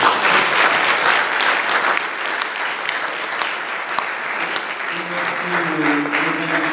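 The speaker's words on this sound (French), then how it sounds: "Je pense qu'on peut applaudir tout le monde." Steady, dense applause from an audience at a student round-table day on organ donation, loud and continuous throughout, with faint voices emerging near the end.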